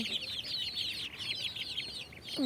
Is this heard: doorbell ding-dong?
no